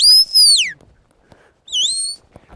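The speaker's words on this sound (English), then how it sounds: "Now I have a whistle." A shepherd on a sheep farm gives sharp, high commanding whistles to working sheepdogs, two loud rising-and-falling blasts separated by a short quiet gap.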